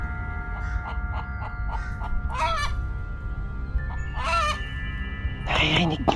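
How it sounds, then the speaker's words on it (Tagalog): A flock of chickens in a coop, heard as several loud, harsh squawking calls in scattered bursts over a low background rumble. "Matatahimik ang mga manok ng mga 5 minuto tapos mag-iingay na naman ng sabay-sabay."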